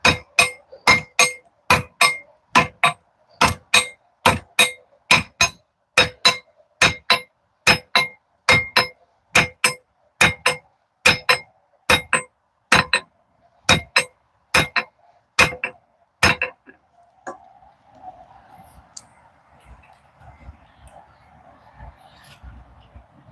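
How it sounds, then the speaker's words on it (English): A hammer peens a forged blade on an anvil with a long run of sharp, ringing metallic strikes in a steady rhythm, close and loud, stopping abruptly and leaving a faint hum and low background noise. "So now I've got that area peened down, well, flattened down."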